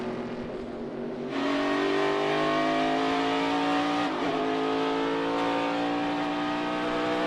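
NASCAR stock cars from the Furniture Row Racing team roar past while racing for position, a loud sustained engine drone with rising harmonic pitch that swells sharply after a quieter start, then holds steady with a brief dip midway.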